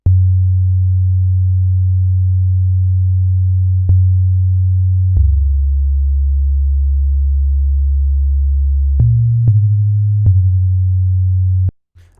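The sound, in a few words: static low synth bass line from a song reference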